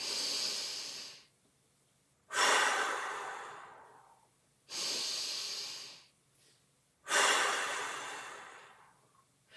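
Four deep, slow breaths in a mobility exercise, each a long, airy hiss lasting about two seconds with short gaps between them, heard close up with no talking over them.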